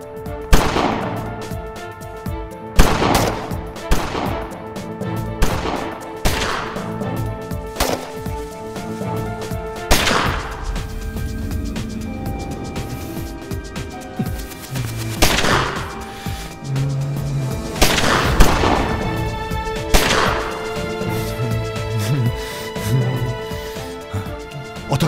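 Gunfire rings out in an armed clash in a Turkish TV film: sharp shots crack repeatedly at irregular intervals, loud and close, over a steady musical backing.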